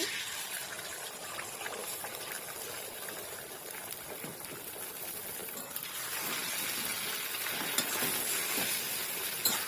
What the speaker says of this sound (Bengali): তেলটা গরম হয়ে গেছে, ডিমটাকে ভেজে নেবো।